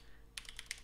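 Quick keystrokes on a computer keyboard while entering Python code, about five close light clicks in a short burst over a steady low hum.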